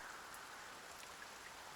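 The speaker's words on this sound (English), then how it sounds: "Lo, the rain doth fall" Rain falls steadily in Dragon Quest I & II HD-2D Remake, a soft, even hiss that is faint and continuous for a brief moment, with no voices.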